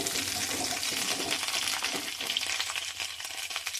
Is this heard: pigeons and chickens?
no